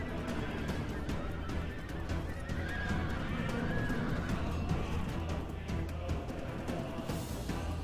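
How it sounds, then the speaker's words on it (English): Horses whinny repeatedly amid a busy battle soundscape in the strategy game Rome: Total War – Barbarian Invasion, with hoofbeats and clattering noise running steadily underneath. "I'm hearing a lot of whinnying of horses."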